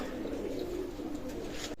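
Pakistani teddy pigeons, a tournament-flying breed at a pigeon loft, coo in a low, steady murmur that runs continuously and fairly close, with no voices over it.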